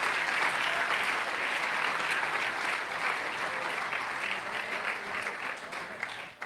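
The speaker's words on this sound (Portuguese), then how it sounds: "Uma salva de palmas para o Senhor" A church congregation applauds at an Easter Sunday service, steady dense clapping that carries on throughout and fades slightly at the end.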